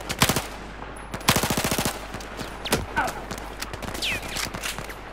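Rapid bursts of automatic machine gun fire in the video game Battlefield 4, two main volleys of quick rhythmic shots followed by scattered single reports and battle effects, with faint background game sounds.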